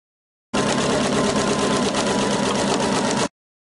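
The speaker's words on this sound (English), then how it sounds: "you'll stitch 1/2 inch away from the raw edge all the way down your" A sewing machine runs a straight stitch along a basic seam, a steady, loud mechanical whir lasting close to three seconds with an abrupt start and stop, heard alone.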